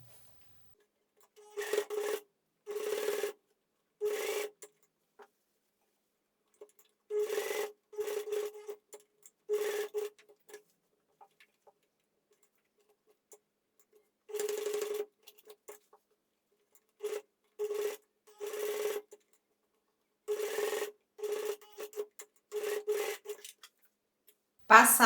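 Sewing machine topstitching along the edge of a polo shirt placket opening, heard as short bursts of rapid mechanical stitching separated by pauses, close and clear with no talk.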